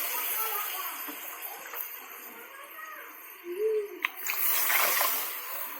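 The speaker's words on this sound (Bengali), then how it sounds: "আমি এর সাথে আরও অল্প পরিমাণে জল দেবো" Water is poured into a pan of potato curry with pumpkin bori, a short splashing rush near the end after quieter kitchen background noise.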